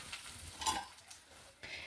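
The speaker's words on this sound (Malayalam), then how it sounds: "മുറിച്ച് വെച്ചിരിക്കുന്ന വത്തലമുളകും കുറച്ച് കറിവേപ്പിലയും കൂടി ഇട്ട് കൊടുത്ത് എല്ലാം കൂടി നന്നായിട്ട് വറുത്തെടുക്കാം" Brief soft sizzling of dried red chillies and curry leaves in hot oil with a light stir and a faint scrape, quiet and close.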